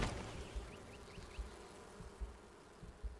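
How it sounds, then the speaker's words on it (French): A swarm of flies buzzing in Enshrouded, a faint, steady insect drone with soft low thumps and small chirping blips over it. "Les mouches."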